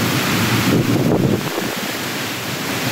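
Stormy Kalbaishakhi wind with rain in southern Bangladesh: a loud, continuous rushing roar that gusts stronger early on, then settles into a steady windy hiss.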